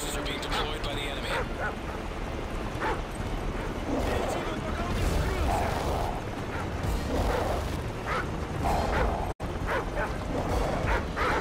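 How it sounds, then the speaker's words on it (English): Attack dogs bark in short yips and bursts within Call of Duty MW3 Survival mode, mixed into busy game noise with a voice speaking over the action. "Enemy attack dogs near your position."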